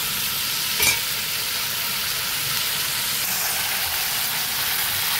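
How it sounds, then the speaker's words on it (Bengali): Ground spice paste goes into a hot pan with kundru (ivy gourd) and potatoes, producing a loud, continuous hiss of sizzling with one brief clatter near the start, close up. "এর মধ্যে দিয়ে দিচ্ছি আমি বেটে বাটা মশলাটা।"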